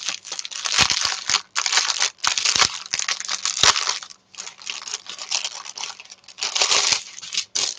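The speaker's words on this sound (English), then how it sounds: "Ooh, noisy crunchy paper." Crunchy paper crinkles loudly in bursts, rustling and crumpling close by with brief pauses between handlings, no voices.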